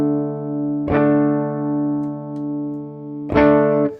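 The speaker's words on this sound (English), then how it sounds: "We have a tone knob, and that's going to be the overall tonality of the reverb." Electric guitar played through a reverb pedal with the tone knob adjusted, two sustained strummed chords ringing out in turn with a smooth reverb tail, clean and alone.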